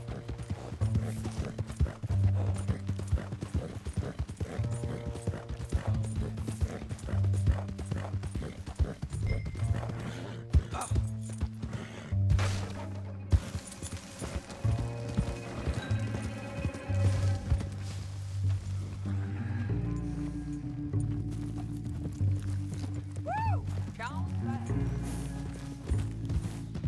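Horse hooves clip-clopping in a steady rhythm while riding in Red Dead Redemption 2, continuous and close, with a neigh, background music and characters talking over the trotting.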